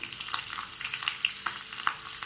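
Cumin and mustard seeds sizzle in hot oil in a pan for a tadka, a steady close frying hiss dotted with small sharp pops and crackles, with no voices.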